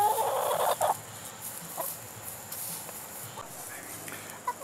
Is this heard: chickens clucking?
yes